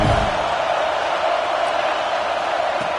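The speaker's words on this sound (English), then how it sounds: "listen to this crowd noise. This stadium is vibrating" Stadium crowd in the NCAA 26 college football video game, a steady dense roar of massed voices, loud and unbroken with no distinct individual calls.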